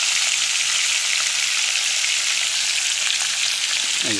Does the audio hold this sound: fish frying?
yes